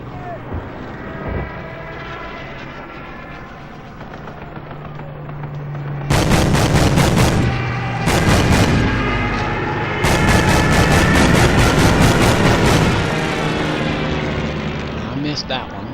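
Flak Vierling anti-aircraft guns hammer away in bursts of rapid heavy gunfire in a Call of Duty 2 World War II battle, loud and close, with lulls between volleys and a low engine drone underneath.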